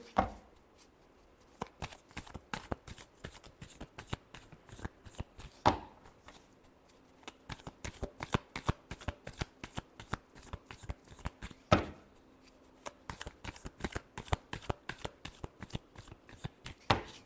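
A deck of tarot cards is shuffled close up, with rapid riffling flutters and soft slaps repeating throughout a quiet room.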